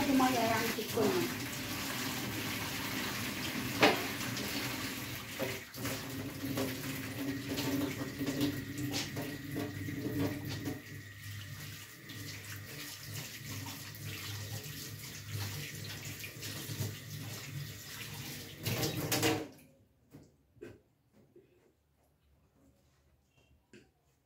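Water runs steadily from a kitchen faucet during dishwashing at a home sink, a broad continuous rush close by with faint clatter, then it stops abruptly near the end, leaving near silence.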